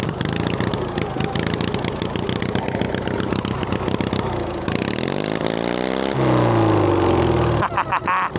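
A modified lawn mower with a welded differential drives through mud. Its engine rasps and revs loudly and close, rising and falling in pitch as the throttle changes, with a sustained high whine near the end.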